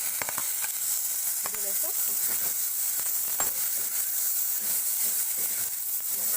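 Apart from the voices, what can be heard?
chopped ridge gourd frying and stirred in a pan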